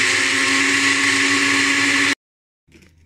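A blender beats pancake batter with a loud, steady whir for about two seconds and then cuts off abruptly, followed by silence and then a faint rustle.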